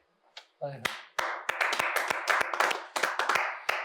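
Sharp hand claps ring out close by in a quick irregular series, a dozen or more strikes, with a voice speaking over them.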